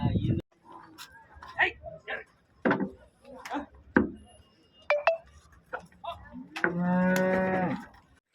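People talk nearby in short bursts, then a cow that has recently calved lets out one long, loud moo close to the listener.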